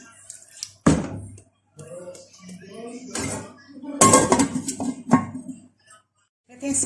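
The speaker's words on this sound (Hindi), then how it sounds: "अब मैं लीड लगा दूंगी।" A lid goes onto a cooking pot of Arabian rice with a sharp metallic clank, followed by a few lighter knocks and rattles of cookware.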